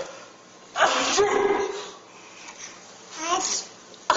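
A small child's sneeze bursts out near the mic, followed by soft babbling and breathy vocal sounds in a quiet room.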